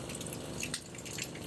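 Water running steadily from a van's portable water heater system, a continuous close hiss of flowing, dripping water filling the short moment with no talk.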